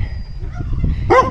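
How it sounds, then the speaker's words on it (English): Dogs barking outdoors, heard as a short yelping bark that comes in loud and close near the end after some softer whimpering sounds. "they're gonna bark the whole time"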